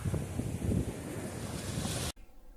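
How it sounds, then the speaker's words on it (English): Ocean surf rolls onto a beach on Bribie Island in a close, steady wash mixed with wind buffeting on the microphone, cutting off abruptly near the end. "There's the ocean."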